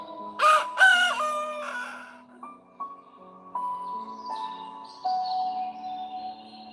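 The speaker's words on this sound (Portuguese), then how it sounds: "O galo está cantando toda hora." A rooster crows loudly up close in one strong, drawn-out call at the start. Afterward quieter, sustained tones and faint chirping carry on in the background.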